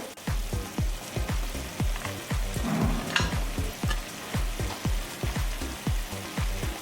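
Tomatoes fry with mutton in a pan for an Agri Koli mutton curry, a loud, close sizzle punctuated by a steady rhythm of spoon strokes scraping and stirring.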